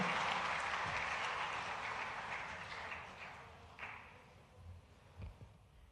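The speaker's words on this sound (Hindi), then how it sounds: "पूरी भोपाल संभाग की जोरदार तालियां होना चाहिए माननीय मुख्यमंत्री जी के उद्बोधन के लिए" A crowd at a Bhopal public event applauds the chief minister of Madhya Pradesh: a steady wash of clapping, faint and distant, slowly fading, with a few louder isolated claps toward the end.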